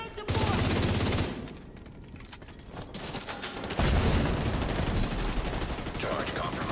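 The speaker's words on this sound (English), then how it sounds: "Deploying turret!" A deployed turret fires in a video game as a loud, sustained burst of rapid automatic gunfire, a second heavy volley following after a short lull.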